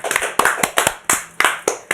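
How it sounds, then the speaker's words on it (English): A few audience members at an investment talk clap to welcome the second speaker, sharp individual claps in an uneven rhythm, close and distinct, with no talking. "Let's give a round of applause."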